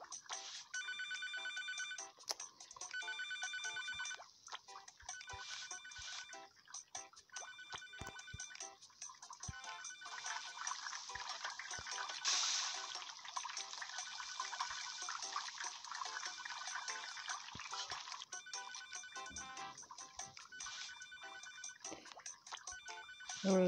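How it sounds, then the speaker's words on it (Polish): A quiet electronic phone ringtone in the video game Papa's Cheeseria To Go repeats in patterned bursts, with a running watery gush underneath and a few soft clicks, fairly faint overall. "Dobrze, że ten telefon jest taki przyciszony."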